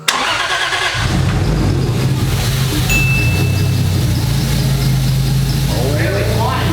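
First start of a 2JZ-GTE engine swapped into a Lexus IS300: a brief crank catches quickly and settles into a loud, steady, close idle rumble, with people talking over it.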